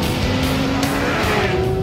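Porsche 911 GT3 RS sliding on the Nardo test track, a loud continuous engine roar with a high tire squeal running through it, close and unbroken.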